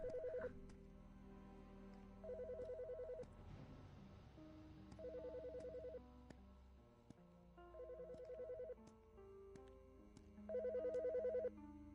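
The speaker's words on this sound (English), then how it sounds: "The fucking phone." Repeated phone ringing in the video game Autopsy Simulator: five loud bursts of a warbling ring, each about a second long and separated by short pauses, with a low music bed continuing underneath.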